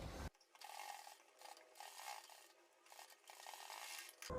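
A sewing machine runs a loose basting stitch on a kurti, giving a steady close mechanical whir and clatter for about four seconds with no one speaking.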